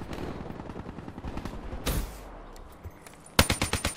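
Rapid gunfire in a first-person shooter game: a dense stream of shots, a sharp burst near the two-second mark, then a loud close string of evenly spaced shots at the end, with no talk.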